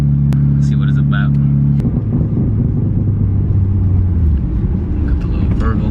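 A manual 2024 BMW G80 M3 with a stock exhaust runs with a steady low engine drone that drops into a loose, rumbling burble, close and loud from inside the car.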